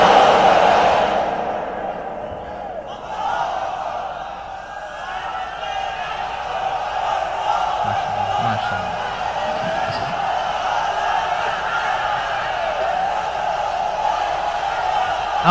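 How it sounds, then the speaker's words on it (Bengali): A large crowd at an Islamic sermon chants takbir together, a loud sustained roar of voices that tapers and lingers over several seconds. "তাকবীর পড়ুন, লিল্লাহি তাকবীর।"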